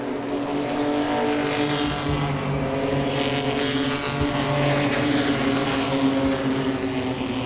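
Pro-Six race cars circling Langley Speedway in a 30-lap race, a loud continuous engine roar that rises and falls as the pack runs close together, with no talking.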